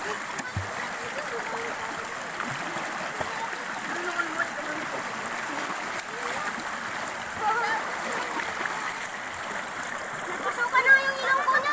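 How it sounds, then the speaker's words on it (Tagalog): A clear river flows steadily with a constant wash of water, small splashes rising near the end; voices talk faintly in the background throughout. "Ang ganda ng agos ng tubig"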